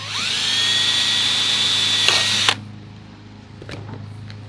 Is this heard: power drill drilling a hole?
yes